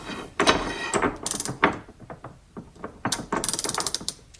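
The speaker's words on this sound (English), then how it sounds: "let's go ahead and do some test pulls on our Craftsman. Now this is a 36 tooth ratcheting mechanism." A Craftsman 36-tooth ratchet clicks through a series of test pulls, sharp close bursts of rapid ratcheting clicks coming in uneven groups with short pauses between strokes.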